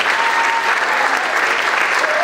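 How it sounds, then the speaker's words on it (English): Audience applause at the 2016 Toby Awards ceremony honoring a school sports team, a steady, loud wash of clapping from a large crowd that fills the whole moment without a break. "Give her a big round of applause,"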